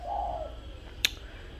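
A spotted dove gives a short, faint cooing phrase at the start, followed by a single sharp click, against a quiet background with a low rumble.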